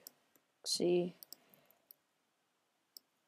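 Sharp mouse clicks in 3D modelling software during character rigging: a brief louder burst near the start, then a few scattered light clicks spread apart, with a short voiced sound mixed into the first burst.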